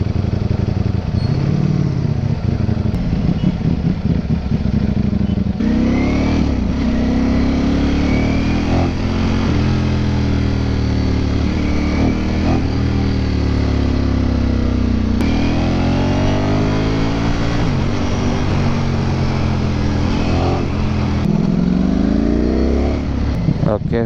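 A Ducati motorcycle with a brutal engine revs hard, its rising and falling pitch sweeping through several gear-like pulls, loud and close throughout with continuous engine drone filling the whole stretch.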